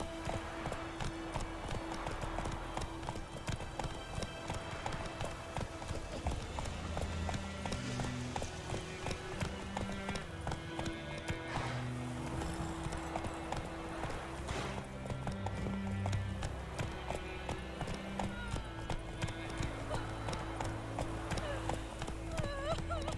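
Horse hooves clip-clopping steadily in The Witcher 3 video game, a continuous trotting rhythm with occasional whinnies under game music and spoken dialogue.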